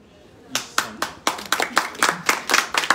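A small audience at a talk claps after a reading, starting from silence and falling into a loose run of distinct, fairly close hand claps, roughly a dozen strong beats with a slightly uneven rhythm.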